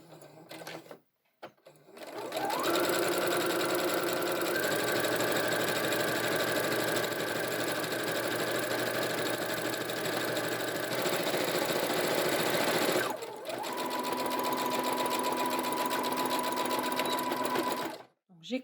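A sewing machine stitches along a fabric headband strip folded in half, running in two long steady bursts of rapid mechanical whirring with short pauses between, close and clear.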